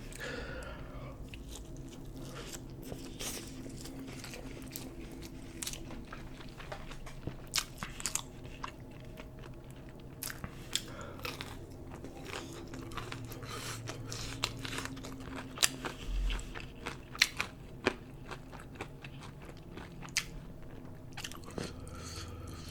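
Buldak fire noodles and chicken tenders are eaten up close, with frequent crunchy bites and wet chewing scattered over a quiet background and a few sharper crunches standing out.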